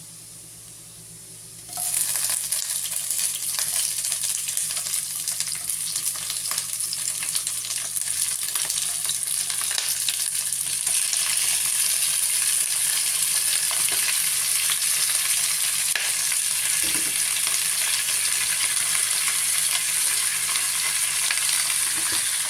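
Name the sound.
shrimp frying in a pan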